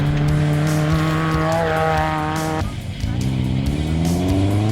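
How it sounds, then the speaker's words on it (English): An off-road race car sets off at pace on a racing loop, its engine revving hard and loud, with a brief dip as it shifts before climbing again, and a squeal of tyres as it pulls away. "That will be Werner Mostert setting off at pace on his loop of 50 kilometers to be completed 4 times."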